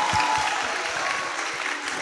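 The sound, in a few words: audience applauding a participant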